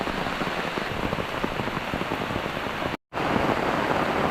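Heavy rain pours at a campsite, a loud, dense, continuous hiss of falling water with one brief dropout near the end.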